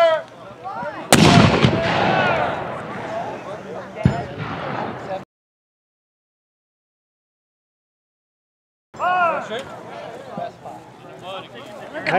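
Black-powder mortar and cannon artillery firing at a competitive match, a sharp blast near the start followed by another report, then rumbling echoes, with a silent gap and crowd noise after.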